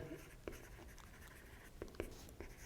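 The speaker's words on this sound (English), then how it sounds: "maybe I'll just write down here" Pen or chalk writing during a lecture on the pumping lemma for context-free languages, quiet scratchy strokes in short irregular bursts against a faint room background.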